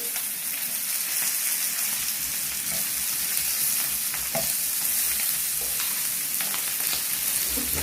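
Food sizzles and crackles steadily on a hot grill fire at a Thai-style New Year barbecue, a dense, constant frying hiss close by with small pops scattered throughout.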